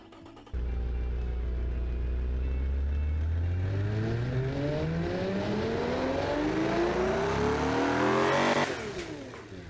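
A 1,000-horsepower GT2 Pro car engine in a video game kicks in and revs upward, its pitch climbing steadily for several seconds before cutting off sharply; loud and close, no talking.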